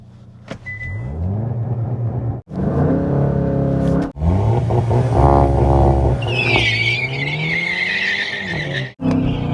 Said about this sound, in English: first race I30N versus Golf GTI